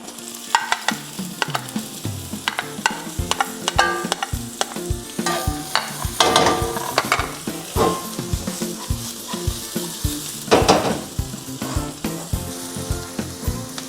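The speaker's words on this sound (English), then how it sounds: "Next thing we're gonna do is add in our onions." Small onions sizzling loudly in a pan while being stirred for ground beef giniling, with a steady frying hiss broken by repeated close scrapes and clacks of the utensil.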